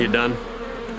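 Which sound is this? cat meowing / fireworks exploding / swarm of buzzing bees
swarm of buzzing bees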